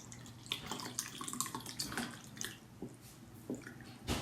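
A herb-filled summer drink poured carefully from a shaker into a cup, an uneven close trickle and splash with small drips and clinks over a few seconds, no talk.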